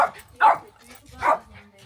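A dog barks close by, three short yappy barks spaced out over about two seconds, with a little background murmur between them.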